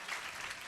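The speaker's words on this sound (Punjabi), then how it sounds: "ਬੰਦੇ ਦੀ ਬੀਵੀ ਲਈ ਤਾਲੀਆਂ ਵਜਾਓ" Audience applause in a Sunday church service for a man's wife, a steady diffuse wash of many hands clapping at moderate, slightly distant level with no pauses.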